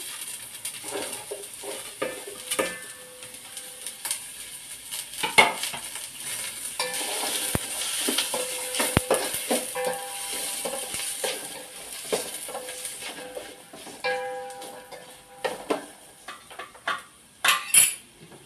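Green chillies and onions fry in oil with a steady low sizzle, broken by frequent clinks and scrapes of a spoon stirring the pan, close up and without voices.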